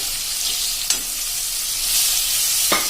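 Mustard and fenugreek seeds temper in hot oil for a ridge gourd sambharo, giving a continuous bright sizzle with a couple of brief stirring clicks, close and with no talk.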